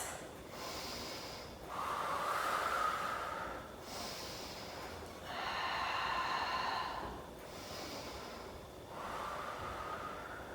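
Slow, steady breathing during a yoga warrior pose, with about four soft, drawn-out inhales and exhales rising and falling in a calm rhythm, close and quiet.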